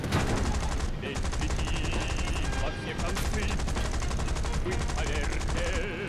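Rapid aircraft gunfire and flak cannon bursts in the War Thunder air combat game, a dense continuous rattle of shots mixed with a constant engine roar, loud and close throughout.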